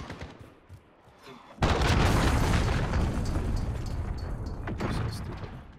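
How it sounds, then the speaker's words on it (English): A cruise missile detonates in Call of Duty Modern Warfare, a sudden heavy boom after quiet that rolls into a loud, sustained rumble and debris roar lasting several seconds. "Enemy cruise missile."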